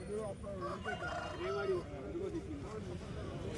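A rooster crows with a rising and falling call, close by in a noisy outdoor poultry market in Kothagudem with voices all around.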